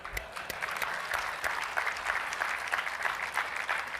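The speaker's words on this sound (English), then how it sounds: "I feel like you're just clapping because I clapped." A conference audience at a corporate event in Las Vegas claps steadily for about four seconds, a moderately distant, dense patter of many hands with no one speaking.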